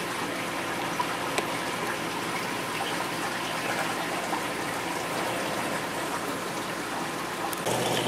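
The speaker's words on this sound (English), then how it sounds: "I'm already topping off the water." Water pours steadily into a home fish tank being topped off, a continuous close gushing, splashing rush with no talking.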